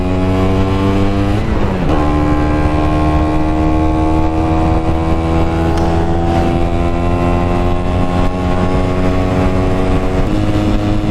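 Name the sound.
Vespa PX scooter with Pinasco 251 kit riding uphill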